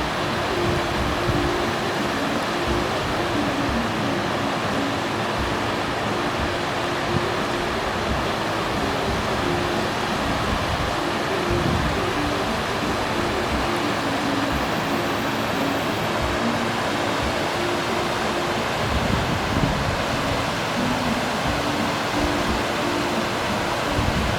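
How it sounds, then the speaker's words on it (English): A waterfall on a backpacking trail near Lamoille roars as a steady, dense wash of rushing water, loud and unbroken throughout with no voices. "Here's that waterfall I was telling you about"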